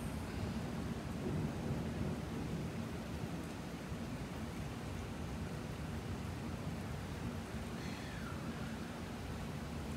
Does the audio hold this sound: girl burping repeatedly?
no